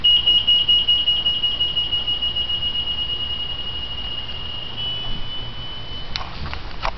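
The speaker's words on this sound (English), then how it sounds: "it's a really simple design for a little alarm" A homemade door alarm sounds a steady high-pitched electronic tone loudly and continuously, then gives way to a few short clicks near the end.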